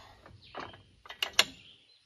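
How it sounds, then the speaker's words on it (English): A few light metallic taps on the top of a bolt on a Kuhn GMD 600 GII disc mower during a blade change ring out close and clear. Two brighter strikes come near the end, with quiet rustling before them. "Just lightly tap on the top of the bolt."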